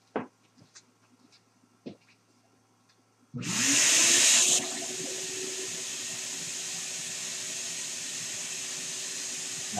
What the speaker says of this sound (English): I'm gonna turn the vacuum to turn the vacuum table on.